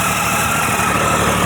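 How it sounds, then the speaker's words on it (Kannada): A Triumph Tiger 800 XCX motorcycle engine idles steadily at close range, with a thin, constant whistle riding over the low mechanical rumble. "ಇಂಜಿನಲ್ಲಿ ಆ ವಿಸಿಲಿಂಗ್ ಸೌಂಡ್ ಕೇಳಿಸ್ತಾ ಇದೆಯಾ ನಿಮಗೆ"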